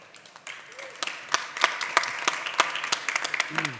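Audience at a panel discussion on self-representation platforms claps in scattered, uneven applause that builds and holds, fairly close, with a voice briefly heard under it.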